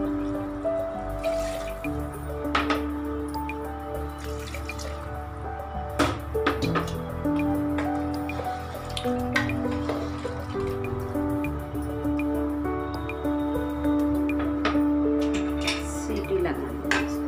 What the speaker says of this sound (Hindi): इसमें 3 ग्लास पानी,